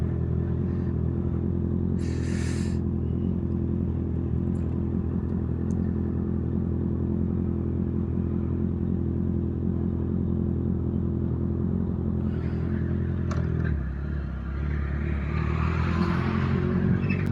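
A Honda CBR650R motorcycle rides along steadily, its engine a constant loud drone throughout with a brief shift in pitch near the end, accompanied by wind rush and no talking.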